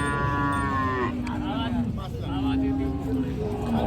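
Cattle low and moo repeatedly at a busy Kopargaon cow market, with long drawn calls rising over steady crowd noise and nearby voices.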